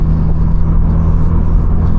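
A BMW G80 M3 cruising in comfort mode with its exhaust valves fully open, a loud, close, steady low engine drone and exhaust rumble with no speech.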